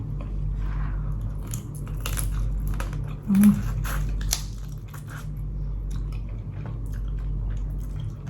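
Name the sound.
eating blue crab papaya salad with rice noodles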